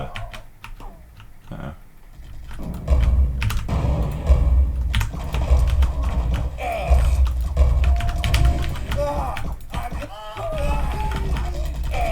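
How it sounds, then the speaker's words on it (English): Quick bursts of clacky keystrokes on a computer keyboard typing into a game's console during a Team Fortress-style CustomTF match, loud and close over humming game sound. "you can go and type custom from the console"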